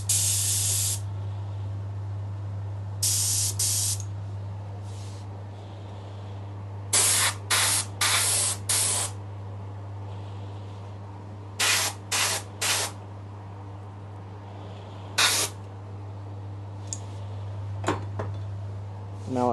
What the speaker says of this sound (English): I'm just spraying from this angle or from the back so I won't get anything on the front there